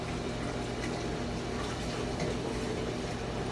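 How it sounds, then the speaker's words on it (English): Water pours steadily into a commercial fryer pot during cleaning, giving a continuous rushing, bubbling fill at moderate level with no voices. "we're gonna fill that up with water, get that shaking around"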